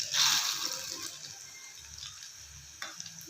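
Puffed rice churumuri stirred and tossed in a pan, giving a soft dry rustling and scraping that is loudest at the start and then settles into lighter, intermittent stirring with a few small clicks.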